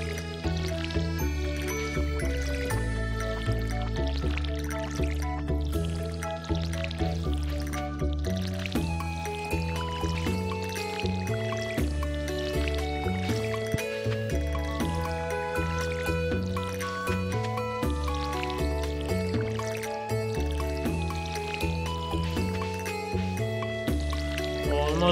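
Watering crops in the video game Stardew Valley, with repeated splashy pour sounds from the watering can heard over constant background game music.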